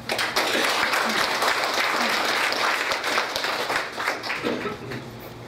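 Sustained audience applause fills the hall at a Korean association general meeting, loud and dense for several seconds before tapering off as a voice begins.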